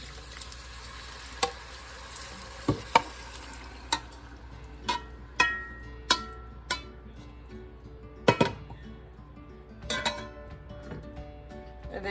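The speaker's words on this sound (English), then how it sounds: "I'm going to add my beans" Pre-cooked dried beans are stirred in a pot with a spoon, giving soft low sizzling and scattered sharp clinks of utensil against metal at an irregular rhythm, close and fairly quiet.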